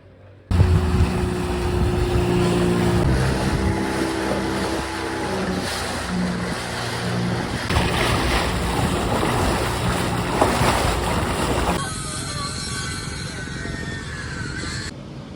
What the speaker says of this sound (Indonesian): naik kapal kecil langsung menuju ke pinisi yang kita akan tinggalin 3 hari ke depan